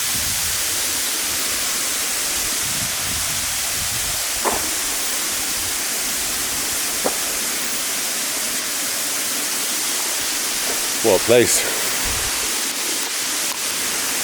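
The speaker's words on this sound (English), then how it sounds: "Crossing over the waterfall" Kuang Si Waterfall in Laos, a steady broadband roar of rushing water filling the scene at close range, with a brief spoken remark near the end.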